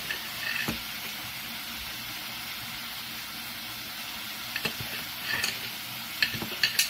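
Vegetables for upma roasting in a pan, a soft steady sizzle with a few sharper clicks of stirring scattered through and bunching near the end.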